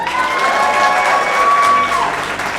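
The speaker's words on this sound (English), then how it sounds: "Round of applause." Audience applause at a women-in-construction industry event in New York, a steady, dense clapping wash filling the room for nearly three seconds, with a few faint cheers mixed in.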